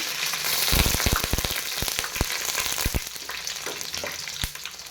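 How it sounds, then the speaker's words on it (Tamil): Dried red chilies and curry leaves fry in hot oil with a loud, dense crackle, punctuated by many sharp pops and spits bursting close by throughout. "இதுக்குடைய வரமிளகாய், கருவேப்பிலை போட்டுக்கலாம். எப்படி பொரியுதுன்னு பாருங்கள்."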